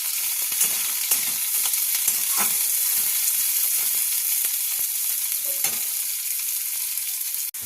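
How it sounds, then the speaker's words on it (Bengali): Bitter gourd fries in a pan of hot oil, giving a continuous bright sizzle punctuated by light stirring clicks and scrapes, close and steady for several seconds. "তো উচ্ছেটাকে আমি হালকা হালকা ব্রাউন কালারে ভেজে নেব।"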